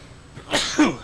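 A single near sneeze on a bus, a sharp breathy burst followed by a brief second expulsion, loud and alone with no talk over it.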